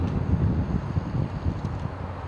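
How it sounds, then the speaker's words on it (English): Wind gusting outdoors at a levee improvement project groundbreaking ceremony, a steady, loud low rumble of wind buffeting the microphone throughout, with no talking. "It's a little windy as our county executive is getting hit in the head here by the state flag"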